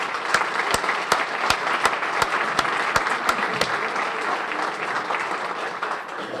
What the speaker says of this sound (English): I want us just to give a round of applause to all small businesses